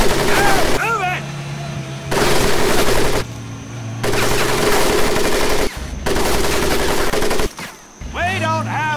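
Sustained machine-gun fire rakes a boot-camp crawl pit in Medal of Honor: Pacific Assault, loud bursts cutting in and out in long stretches with short gaps between them.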